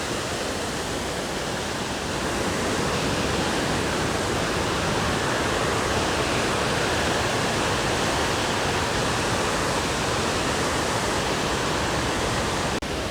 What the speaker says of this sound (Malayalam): എല്ലായിടത്തും വെള്ളം ഒഴുകുന്നുണ്ട്.